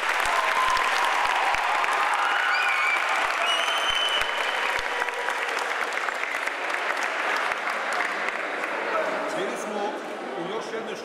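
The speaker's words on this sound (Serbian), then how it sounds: "Može opet jedan veliki aplauz za njih." Schoolchildren applaud Partizan and Crvena Zvezda footballers visiting their primary school, a sustained, dense clapping from a large crowd that fills the whole stretch, steady and close, with a few sharp individual claps standing out.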